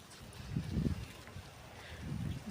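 Wind sweeping across a steep, sloping hillside, a broad low rumble of gusts buffeting the microphone, swelling and easing over a couple of seconds with no voices.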